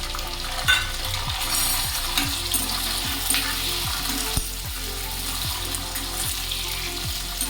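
Potatoes sautéing in hot oil with green chilli and curry leaves for a Gujarati okra-potato dish: a steady close sizzle with repeated scraping stirs at a regular pace, no talking.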